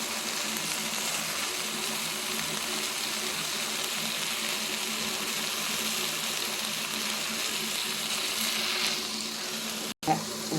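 Sliced okra frying in a pan with turmeric, chilli powder and salt, giving a steady loud sizzle throughout with faint stirring, then a brief sharp clatter near the end.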